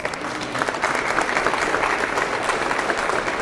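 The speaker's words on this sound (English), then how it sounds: "Good luck to them on Sunday, and a round of applause" An audience gives a round of applause at a Philadelphia Marathon race weekend kickoff event, a steady wash of many hands clapping at moderate loudness throughout.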